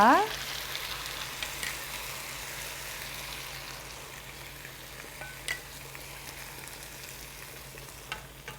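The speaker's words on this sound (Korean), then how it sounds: "자, 우선 양념장 부어 볼게요." Seasoning sauce poured into a pan of braised chicken and dried pollack on high heat, starting with a loud splash and then settling into a steady, close, continuous sizzle and bubbling with occasional light clinks.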